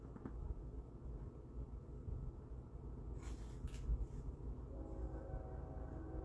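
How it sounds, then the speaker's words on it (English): A noisy train passes at a distance: a low steady rumble throughout, with a faint horn-like tone rising near the end. "I hear a train."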